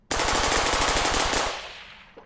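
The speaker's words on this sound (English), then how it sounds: "Tell me where you see gunshots coming from" Rapid automatic gunfire from a video game played with a grandmother, a dense burst of closely spaced shots lasting over a second, then a fading echoing tail, loud with no talk.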